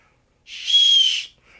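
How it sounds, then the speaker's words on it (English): A survival whistle from a get-home bag gives one shrill, steady blast of about a second, loud and close, with silence around it. "this part is a whistle"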